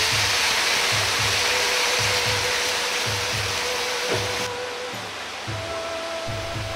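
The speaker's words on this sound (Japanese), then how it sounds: "ごま油を適量入れ香りをつけます。 そのまま強火で焼き付けます。" Salted mapo tofu searing in sesame oil over high heat, a loud steady broadband sizzle with faint clicking and pan scraping, easing slightly partway through, no voices.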